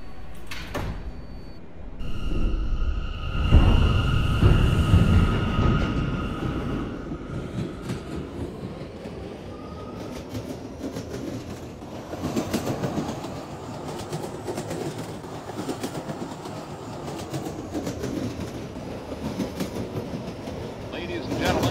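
A subway train rumbles and clatters steadily along the tracks, with a door chime early on and continuous rolling noise throughout.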